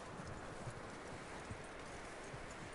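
Horse hooves clip-clop in Red Dead Redemption 2, a faint, steady series of soft footfalls under a constant hiss of game ambience, with no talk.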